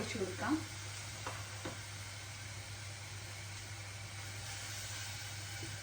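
Grated carrot halwa being stirred in a pan as milk is poured in, a soft continuous sizzle and scraping with a few faint clinks, under a low steady background hum.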